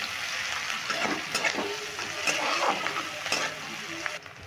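Sliced onion and green chilli stir-fry with tempering spices in hot oil, a steady close sizzle punctuated by repeated spatula scrapes and stirs.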